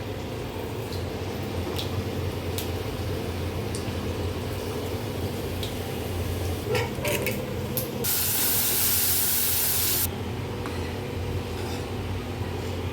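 Tadka tempering for dal sizzling in hot oil in a home kitchen, a steady close hiss throughout that swells into a louder, brighter spray-like burst for a couple of seconds near the end.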